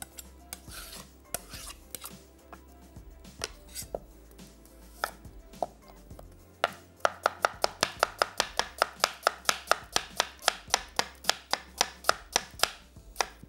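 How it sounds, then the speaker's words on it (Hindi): A knife finely chopping an onion on a board, starting with scattered irregular cuts and then settling into a fast, even run of crisp, close knocks, with no one speaking. "बारीक प्याज की कटिंग"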